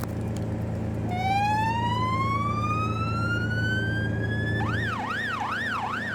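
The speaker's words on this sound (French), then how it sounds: "Sirène." A police armored truck's siren with a tactical intervention team in Québec rises in a long climbing wail, then switches to a rapid warbling yelp. It is loud and close over a steady engine rumble.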